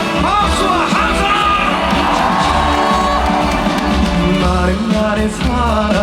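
A large outdoor festival crowd at a Korean apple festival concert cheers, whoops and claps loudly together, a dense roar of voices and applause with music-like tones underneath, sustained throughout.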